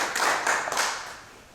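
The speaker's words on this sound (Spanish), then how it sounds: "pues un aplauso." A short burst of audience clapping for a lecturer at a cultural centre exhibition, a few close hand claps swelling briefly and then fading.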